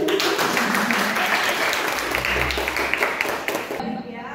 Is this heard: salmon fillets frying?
no